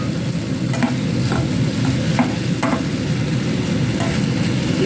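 Chicken stir-frying with sautéed onion, garlic and tomato crackles in a pan, a dense continuous sizzle punctuated by a few sharp utensil scrapes, close and loud.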